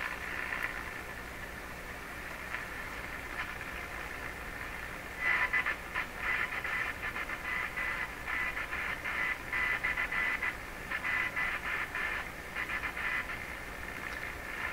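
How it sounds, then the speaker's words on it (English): A Rogers Majestic (Philips) RM503 farm radio picks up ham radio Morse code, a keyed tone of short and long bursts pulsing through a constant bed of hiss and static. "Interesting, a little bit of ham radio Morse code."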